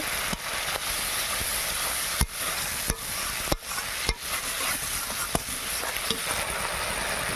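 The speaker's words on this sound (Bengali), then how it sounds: "মশলা হয়ে গেছে, এবার দই দিয়ে ভালো করে নাড়াচাড়া করব।" Fried spice masala with yogurt sizzles steadily in a pan while a spoon stirs and scrapes, sharp clacks against the metal standing out every second or so over the constant hiss.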